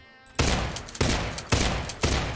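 A Type 89 rifle fires in the mobile battle royale game Knives Out as four loud, evenly spaced semi-automatic shots about half a second apart, each with a sharp crack followed by a lingering tail.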